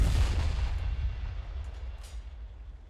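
A mortar fires in the real-time strategy game Company of Heroes 3, a muffled low boom at the start whose rumble decays slowly over the next few seconds, with faint distant pops trailing behind.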